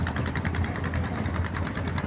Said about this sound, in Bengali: ট্রলার আসছে তেরাভাতা থেকে